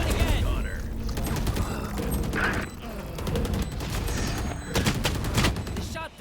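Valorant gunfire at a professional tournament match cracks in repeated quick volleys and mechanical clatter, with casters talking excitedly over the action throughout.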